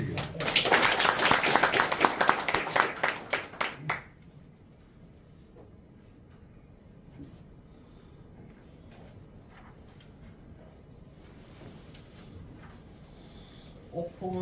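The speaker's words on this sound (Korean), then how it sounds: "박수 한번 치주세요." Audience clapping at a lecture on Yi Sun-sin in Geoje, a loud, dense burst of many hands for about four seconds that stops abruptly into a quiet room with faint shuffling, and a voice starts at the very end.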